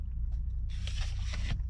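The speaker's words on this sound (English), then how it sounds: "That is my awning making that noise." Awning on a parked camper van rattling and buzzing in bursts over a steady low engine-like hum, one long broadband rattle in the middle with shorter ones before and after, fairly close.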